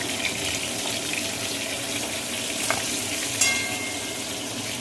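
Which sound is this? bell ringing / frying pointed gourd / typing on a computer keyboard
frying pointed gourd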